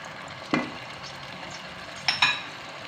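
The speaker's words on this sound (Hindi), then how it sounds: "ये सारे मसाले मैं इसके अंदर डालूँगी और एक साथ ही चिकन को भूनूँगी" Chicken frying in a pan with spices and garlic-ginger paste, a steady low sizzle broken by a few sharp scraping stirs of a spoon, close and moderately loud with no talking.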